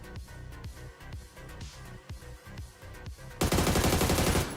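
A rifle fitted with a muzzle brake fires in PUBG as a run of evenly spaced, punchy shots, then a louder, dense stretch of sustained noise takes over near the end.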